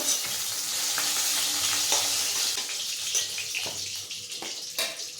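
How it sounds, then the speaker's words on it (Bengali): Eggplant fries in oil with a close, steady sizzle that gradually thins and softens, punctuated by a few clicks and spatula scrapes toward the end. "এদিকে বেগুন ভাজা হয়ে গেছে তুলে নেব"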